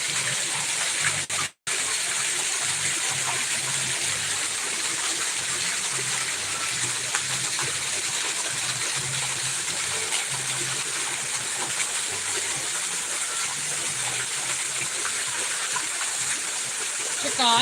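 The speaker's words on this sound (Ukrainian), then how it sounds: "Ну тримай, знімай водоспадик." A waterfall's continuous rush of falling water roars steadily close by, broad and even, with a brief dropout near the start and faint voices under it.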